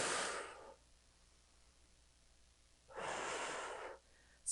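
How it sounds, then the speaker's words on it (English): Two strong breaths out during a core workout, each a breathy whoosh lasting under a second with a quiet gap between them, close to the mic and without talk. "Exhale on the exertion."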